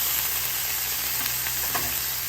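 Fish fries in a pan with fermented soybean paste, giving a steady, even sizzle and hiss from start to finish with a few slightly brighter crackles and no voices.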